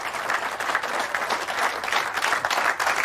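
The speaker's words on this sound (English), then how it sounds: "Now's the time to clap, folks." Applause from a small gallery of spectators at a golf course lesson on a windy day, steady dense clapping throughout at moderate volume, with no voices over it.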